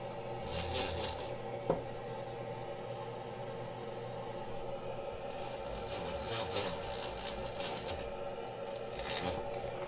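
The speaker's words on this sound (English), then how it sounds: "let's sand these other ones real quick" Plastic dental retainers are sanded in short, hissing scratchy bursts, a rough gritty rasp that starts and stops against a steady background hum, with no talking.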